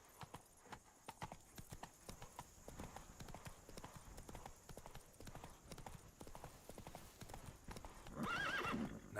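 Clip-clop of a horse's hooves trotting in steady rhythm in The Witcher 3: Blood & Wine, the horse Roach, ending with a loud whinny near the close.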